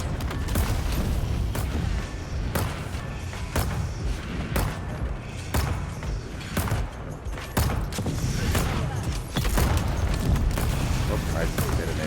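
Repeated explosions from detonations in a video game, a dense barrage of booming blasts and thuds in quick succession over continuous rumbling noise, with a voice talking over them.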